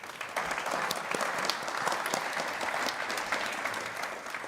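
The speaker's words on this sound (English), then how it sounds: "a massive round of applause for the panel" A large audience applauds a conference panel at a live event, dense steady clapping throughout at a consistent level with no voices over it.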